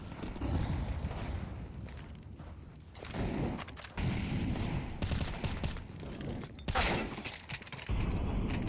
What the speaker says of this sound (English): The AWP at least returned fire.